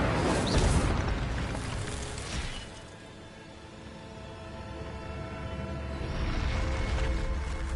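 The Incendio fire spell in the game Hogwarts Legacy erupts in a loud, roaring burst of flame that dips briefly and then swells again into a sustained rumbling whoosh.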